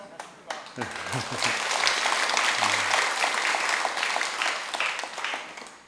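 An audience at a Sunday Dharma service at Jogyesa temple breaks into sustained applause, dense and even after a few scattered opening claps, with a voice briefly audible near the start.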